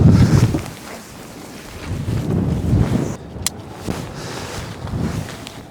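Strong wind buffeting the microphone outdoors while an MSR Hubba NX tent is pitched, a loud, rumbling roar that rises and falls in gusts, with one brief sharp tick partway through.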